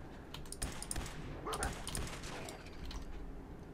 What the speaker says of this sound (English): Angry bark, what is it?